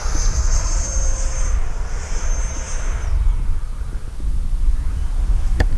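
An E-flite Viper 90mm electric ducted-fan RC jet screams past at full throttle, a loud high-pitched whine that rises and fades as it flies by, with wind rumble underneath.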